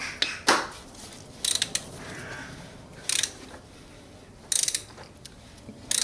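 A ratchet wrench tightening the oil filter cap on a 2005 Peugeot petrol car, heard as several short, close bursts of sharp clicking separated by brief pauses.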